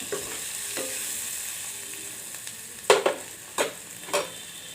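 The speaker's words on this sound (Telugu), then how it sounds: "ఇప్పుడు కరివేపాకు వేస్తున్నాను" Curry leaves dropped into hot oil sizzle steadily up close, and several sharp spattering crackles and spoon scrapes flare up toward the end.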